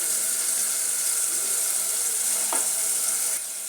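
Ginger garlic paste and chopped green chillies fry with spices in a pan, giving a steady, close sizzle with a brief scrape partway through.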